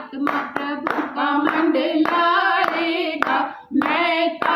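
A congregation at a women's ministry prayer meeting claps steadily along with loud worship singing, the sharp hand claps landing at a regular beat under the sustained group voices.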